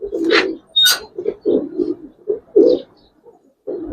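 Giribaz pigeons of a paired racing line cooing close by in a series of soft, throaty, repeated coos with short gaps, plus a couple of brighter wing or call bursts.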